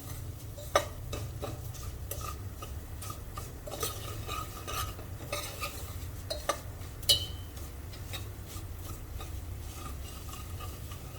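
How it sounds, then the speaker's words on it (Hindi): Ingredients being stirred in ghee over a low flame, a spoon scraping and clicking steadily against the pan above a soft, constant sizzle, with a few sharper metallic taps. "तो इसे लो फ्लेम पर इस तरह से चलाते रहें।"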